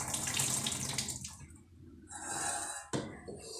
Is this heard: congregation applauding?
no